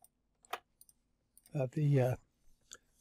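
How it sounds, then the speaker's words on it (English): Several sharp mouse clicks while editing a photo of a jetty in image-editing software, spaced irregularly before and after a brief stretch of nearby speech. "if I alt click that"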